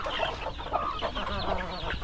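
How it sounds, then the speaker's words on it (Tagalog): Guinea fowl call in a farm enclosure, a steady chorus of repeated harsh, rhythmic cackling notes from several birds at moderate distance. "Nagsimula nang mag-enjoy yung ating mga bagong ginya oh, dito sa ating area. Nag-ingay na sila."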